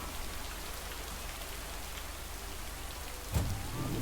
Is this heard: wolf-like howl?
no